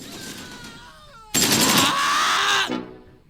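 Gunfire aimed at enemy infantry in a war video game comes as a loud burst of rapid shots that cuts off abruptly after about a second, preceded by quieter game sounds.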